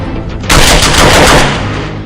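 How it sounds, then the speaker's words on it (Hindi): A carbine fires on full automatic at about 700 rounds per minute, a single loud, dense burst of rapid shots lasting about a second before it cuts off, close and alone. "1 मिनट में 700 गोलियां इस कार्बाइन से निकलती है"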